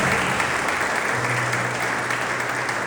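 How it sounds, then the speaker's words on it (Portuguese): Church congregation applauding during a Portuguese-language worship service, a steady dense wash of clapping throughout with a low sustained tone underneath. "Pode aplaudir o Senhor, gente"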